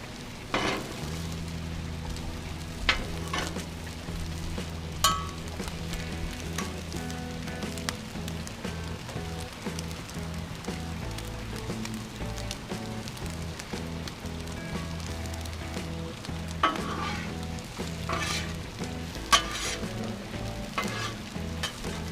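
Corned beef hash with potatoes fries on a Blackstone griddle, giving a steady, close sizzle throughout with occasional scraping and stirring clatters.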